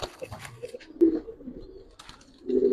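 Giribaz flying pigeons give soft, low coos in short bursts near at hand, separated by brief quiet gaps and light shuffling sounds.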